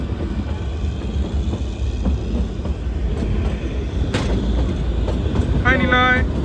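The UNESCO heritage toy train to Shimla rumbles along with a constant low clattering roar of rolling wagons close by, and a brief high voice or squeal cuts through near the end.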